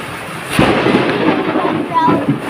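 Thunder rumbles close and heavy amid steady rain, a low rolling boom that swells and fades.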